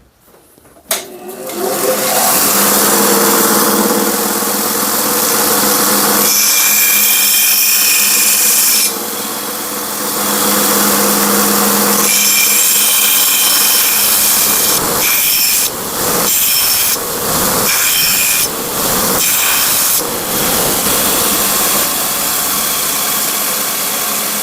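A belt grinder sharpens the bevel of an axe head with a loud, continuous abrasive whine and rasp. Short breaks and quick grinding passes come through near the end, with no talking.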